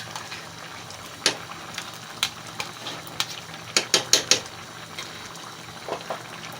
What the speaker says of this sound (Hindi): अब इसमें दही डालेंगे, ½ कप दही है।